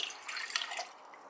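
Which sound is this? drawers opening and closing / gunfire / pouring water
pouring water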